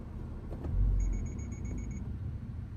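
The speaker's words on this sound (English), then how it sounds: "an alert sounds with repeated short beeps, and an interruption screen is shown on the gauge display" A 2024 Subaru WRX's EyeSight collision warning gives a rapid run of about ten short, high electronic beeps lasting roughly a second over low road and cabin rumble.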